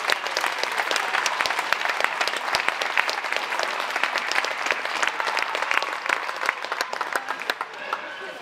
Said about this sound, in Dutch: Applaus voor de winnaar.